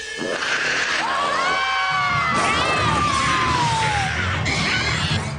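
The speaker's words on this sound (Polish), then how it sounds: "Ja na tym nagraniu widzę tylko bandę krzyczących dzieciaków." A group of children scream and shriek together on a recording in an animated cartoon, loud and continuous with rising and falling high-pitched wails for several seconds.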